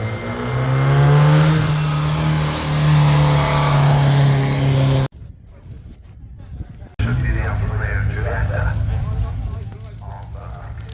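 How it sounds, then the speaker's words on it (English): A small Fiat Topolino engine roars loudly close by, a brief quieter gap, then the engine noise returns at full strength as it drives past. "It's a little Fiat Topolino."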